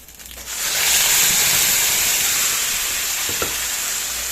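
Whole garam masala, cumin, dried chilli and bay leaves hit hot oil in a pan, bursting into a loud steady sizzle that stays bright and hissing, with a couple of faint knocks of a spoon near the end.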